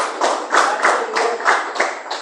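Rhythmic clapping at a Portuguese-language church prayer service, a congregation clapping together in steady even beats about three per second, close and fairly loud with no talk over it.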